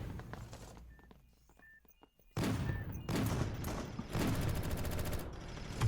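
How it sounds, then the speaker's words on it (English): Gunfire and grenade blasts in the video game Sector's Edge, a scattered burst of shots and thumps followed by sustained dense firing and explosions in the second half, fairly loud and without talk. "Grenades being thrown by Coco, and Coco able to get the kill with"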